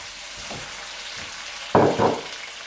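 Salami and bacon dropped back into a casserole pan, a quiet background sizzle broken by a loud burst of frying and a second flare as the meat hits the hot pan.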